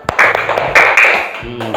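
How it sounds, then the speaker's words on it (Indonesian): A classroom group of students claps for a presenting student group: a short, close burst of clapping lasting under two seconds, with a voice talking over it. "Kita kasih tepukan tangan dulu buat kelompoknya Leo."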